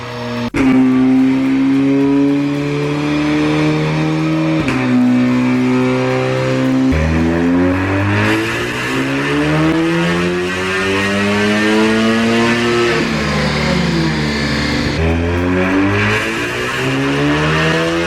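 An Audi S3 with a hybrid turbo revs hard on a dyno, its engine note climbing steadily through the gears in repeated rising sweeps, loud, close and continuous with no talking.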